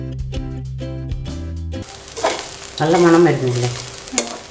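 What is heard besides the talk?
stirring chammanthi podi with crushed pepper roasting in a pan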